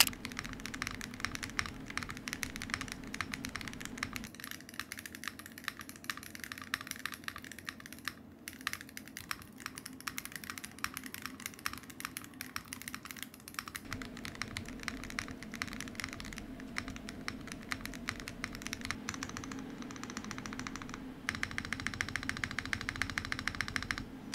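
Rapid, continuous typing on an Evo80 mechanical keyboard, with a steady stream of sharp, clacky keystrokes heard fairly quietly and with no voices.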